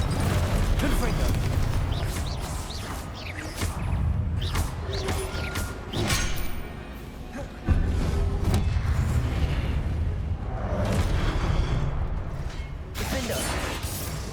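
Confringo, an explosive fire spell cast in a Hogwarts Legacy battle, goes off with loud booms inside dense, continuous combat noise of clattering, creaking effects, with voices underneath.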